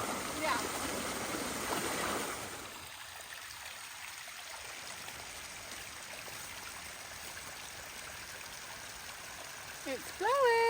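Floodwater pouring through a blocked channel on a rural homestead, a steady rushing, trickling flow heard from close by, louder at the start, with wind buffeting and faint voices nearby.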